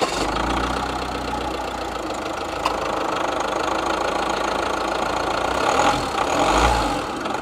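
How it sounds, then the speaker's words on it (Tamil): A Tata Safari SUV engine runs at idle, a steady loud rumbling diesel-like clatter with a slight rhythmic knock, holding evenly throughout with a brief swell near the end. "இந்த இன்ஜின் வந்து எப்படி ஸ்டார்ட் ஆகுது அப்படின்னு நான் உங்களுக்கு இப்போ காட்டுறேன்"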